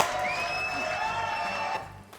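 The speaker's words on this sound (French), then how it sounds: "Applaudissements pour Julie," A studio audience applauds guest Julie on a French TV show. Dense, steady clapping and cheering fill the room, with bright tones ringing over it before it thins out near the end.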